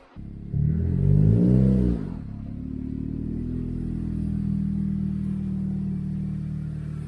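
A turbocharged Toyota Corolla with freshly upgraded brakes pulls out for a short drive, its engine giving a brief rising rev and then settling into a steady, close mid-pitched drone.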